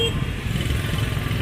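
A motorbike engine drones steadily nearby on a street in District 1, a low rumbling putter that holds throughout without fading.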